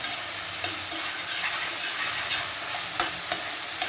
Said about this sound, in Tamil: இந்த வெக்கா வெங்காயமும் தக்காளியும் வதங்கி வர்றதுக்கும்